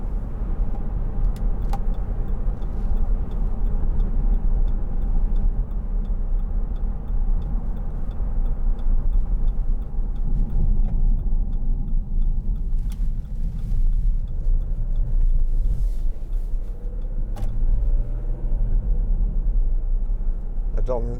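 A 2012 Jeep Grand Cherokee 3.0 CRD V6 diesel being driven, with a steady low engine and road rumble inside the cabin, a few faint ticks over it, and someone talking over the drone.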